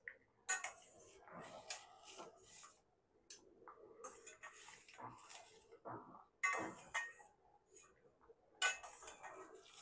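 Cooked vegetables scooped from a pot into a bowl with a spoon for baby food, quiet intermittent clinks and scrapes of metal on dishware in short bursts separated by silence.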